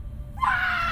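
A blood-curdling scream erupts after a quiet, low rumbling start, rising into a loud, sustained shriek that holds to the end.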